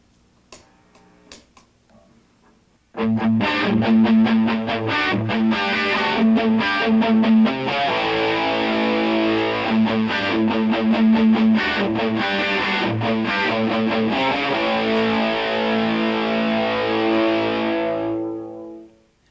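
Distorted electric guitar lick played slowly, a loud run of repeated picked notes with a few sparse plucks before it, ringing on steadily and fading at the end.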